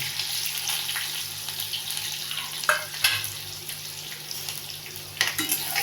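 A paste of chilies and garlic fries in oil with mustard seeds, cumin and curry leaves for an okra dish, making a steady close hiss broken by a few sharp pops and spatters.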